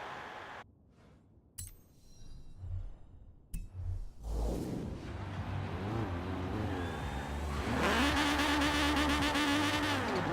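A car in the racing game Forza Horizon 4 launches at full throttle with the first gear shortened: a few clinks and whooshes, then a loud engine revving hard and climbing steadily in pitch, with no talking.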